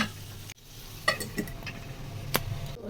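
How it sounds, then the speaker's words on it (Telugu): Chicken frying in a pan in a home kitchen, a soft steady sizzle with a few sharp clicks and taps. "చికెన్ ఇక్కడ ఫ్రై అవుతుంది"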